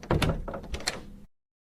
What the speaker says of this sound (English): Then the door opened slowly.